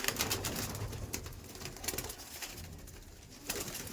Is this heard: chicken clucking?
no